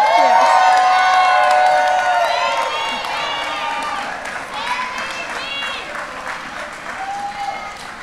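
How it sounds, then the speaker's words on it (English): Wedding guests applaud and cheer after the maid of honor's toast, a loud, steady wash of clapping with whoops and shouted voices over it, easing slightly in volume as it goes on. "One more round of applause for the maid of honor"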